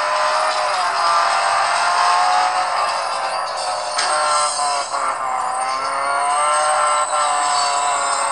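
A racing car engine in the mobile racing game Real Racing 3 roars loudly and steadily throughout, with slight rises and dips in pitch as the car speeds along.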